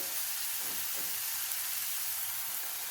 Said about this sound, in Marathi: आणि टोमॅटो थोडा वेळ परतून घेणार